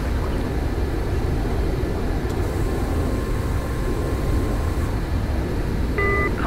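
A military jet taking off in Arma 3, a steady loud engine roar and rumble filling the whole stretch, with a short electronic cockpit beep near the end.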